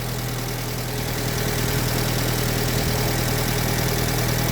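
A car engine with freshly replaced rod bearings runs close and loud with a steady, rough drone that builds slightly as it is revved, with no talking.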